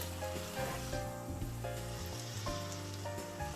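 Keto mug bread pressed flat in a pan of butter gives a steady, close sizzle and frying crackle throughout, with faint scraping under it and no voices.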